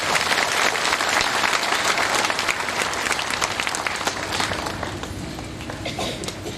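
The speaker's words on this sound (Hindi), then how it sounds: "जोरदार ताली बजा के स्वागत करें।" Audience applause fills a priestly ordination ceremony, a dense, loud wash of clapping from a large crowd that carries on steadily and eases slightly toward the end.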